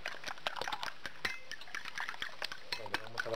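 A whisk or fork beats eggs for a wild asparagus omelette, giving fast, quiet, steady clinks against the bowl.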